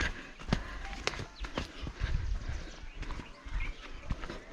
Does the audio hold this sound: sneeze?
no